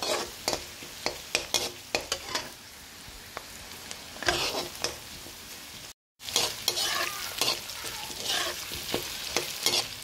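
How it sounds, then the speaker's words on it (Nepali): Potatoes frying and being stirred in a pan, with a steady close sizzle broken by repeated scraping stir strokes and a brief cut of silence midway. "मैले आलुलाई पनि यसरी राखेर मजाले फ्राई गरेँ"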